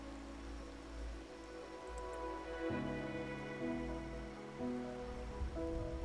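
Steady rain falls in the video game Wuthering Waves, a soft continuous patter under calm tonal background music, with no talking.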